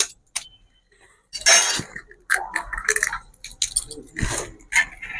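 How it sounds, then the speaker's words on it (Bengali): Eggs being cracked in a kitchen while making fried rice: sharp close taps and clinks against a hard rim, followed by wet squishy spills in irregular bursts with short pauses. "এবার ডিমটা ফাটিয়ে নেব আমি"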